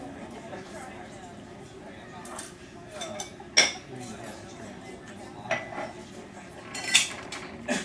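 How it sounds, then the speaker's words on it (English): Metal bar spoon clinking against glass and ice while a martini is stirred, a few sharp isolated chimes over a steady room murmur with people talking. "This is the bar spoon to stir it."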